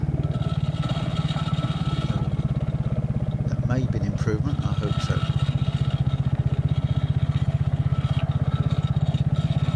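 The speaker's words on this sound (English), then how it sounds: "the exhaust of the motorcycle to give you that soundtrack" Triumph Spitfire motorcycle exhaust while riding along country lanes in Cumbria, a steady rhythmic engine drone with wind noise throughout, and someone talking over it.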